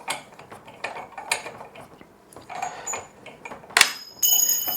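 A three-tier rotating bookshelf is turned during assembly, giving close mechanical clicks, creaks and ratcheting rattles, with a sharper metallic clatter near the end.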